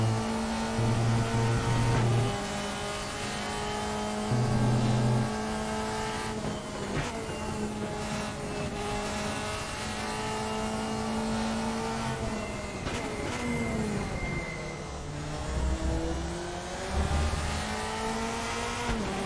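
A race car engine in the RaceRoom racing game on the Assen TT Circuit screams loudly and continuously, rising and falling with gear changes and braking through a lap, with no talk.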